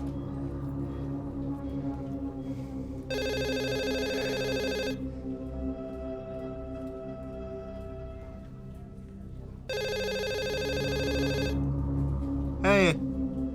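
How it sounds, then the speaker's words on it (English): A telephone rings in two long electronic bursts separated by a pause, with a low background hum and a brief chirp near the end. "the phone's ringing"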